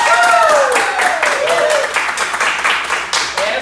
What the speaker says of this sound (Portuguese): Essa salva de palmas foram para os nossos clientes